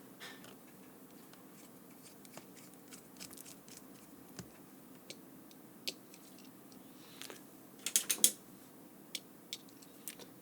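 A small star-shaped screwdriver drives four tiny screws back into a Garmin Nuvi GPS, with faint scattered ticks and scrapes, close but quiet, and a brief cluster of sharper clicks near the end.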